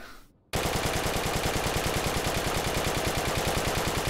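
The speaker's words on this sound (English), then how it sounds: "then of course we have the Maxim gun, only in the quadruple mount for anti-aircraft work" A quadruple-mounted Maxim anti-aircraft gun in Forgotten Hope 2 opens up after a short lull, loosing a loud, continuous, rapid mechanical stream of shots that holds steady without a break to the end.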